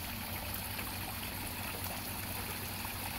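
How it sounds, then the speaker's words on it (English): A small backyard pond waterfall, set among lilies, papyrus and fish, trickles steadily and close by, a constant watery hiss with no voices. "The waterfall."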